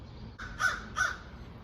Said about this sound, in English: I think the crows are saying ha ha ha because they're laughing at me